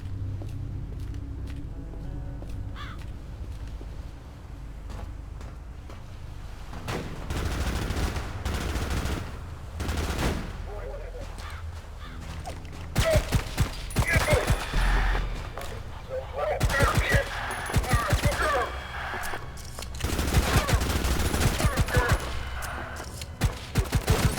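Tactical pistol shots in the first-person shooter ADACA, a sharp and punchy crack heard repeatedly in clustered volleys over a low ambient rumble, growing denser toward the end.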